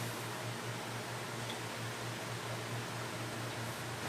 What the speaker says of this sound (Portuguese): Se tiver um ruído de fundo é porque o ventilador está aqui embaixo de mim